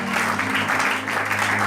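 A church congregation applauding, a dense burst of many clapping hands, loud and continuous for the whole short span.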